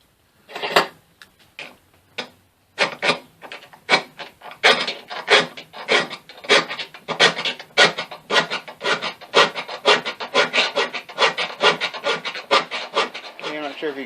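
Rusted steel nut being filed by hand to strip out its inner threads and round off its square edges for a ring, heard as close, steady rasping strokes repeated in a brisk rhythm with no talking.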